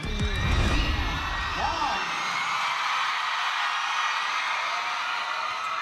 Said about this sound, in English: I just had to let you hear the cheers of the crowd.